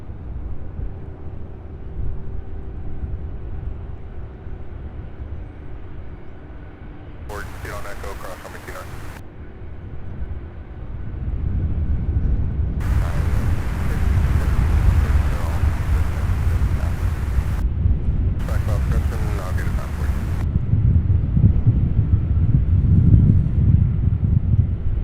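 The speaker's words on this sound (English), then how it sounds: "This aircraft here, just 6 years old, 737-800, arriving from Dallas," A Boeing 737-800 jet arriving at Louisville airport rumbles in from a distance, its low roar swelling louder and broader over the second half, with bursts of radio chatter and someone talking over it.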